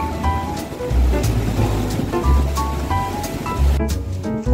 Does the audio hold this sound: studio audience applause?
no